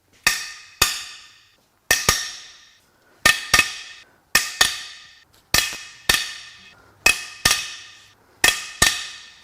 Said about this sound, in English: Let's crack the other bank's head bolts loose.